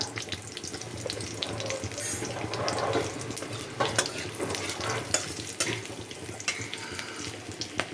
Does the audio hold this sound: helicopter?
no